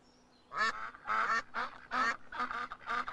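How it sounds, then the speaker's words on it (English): Several loud honking quacks in a quick uneven series, close up, like a group of ducks calling together. "A family of ducks."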